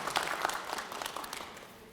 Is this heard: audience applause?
yes